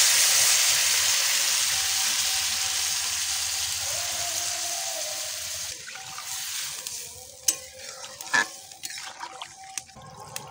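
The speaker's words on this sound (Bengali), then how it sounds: "এবার পরিমাণ মতো জল দিয়ে দেবো।" Water added to a hot pan of Bengali rohu fish and cauliflower curry: a loud rushing hiss that gradually fades over several seconds, giving way to quieter bubbling, scattered spoon clinks and knocks near the end, no voices.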